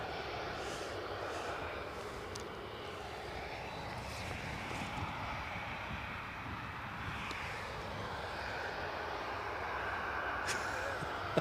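Aircraft noise at Newcastle Airport on a snowy, crosswind day: a steady broadband engine roar holds evenly throughout, moderately distant, with no talk over it.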